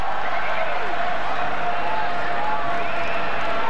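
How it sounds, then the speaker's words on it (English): Applause and crowd noise rise from the stands at a 1996/97 National Soccer League football match between Sydney United and West Adelaide, heard as a broad, distant wash beneath a commentator's steady talk. "To the applause of the crowd"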